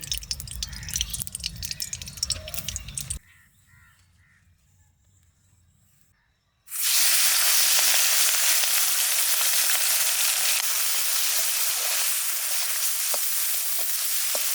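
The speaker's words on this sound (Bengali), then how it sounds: "মাছগুলো ভাজবো তার জন্য এই যে কড়াইতে তেল দিয়ে দিচ্ছি" Prawns hit hot oil in a wok, and after some busy kitchen noise and a quiet pause a loud, bright sizzle bursts up and roars on steadily, close at hand.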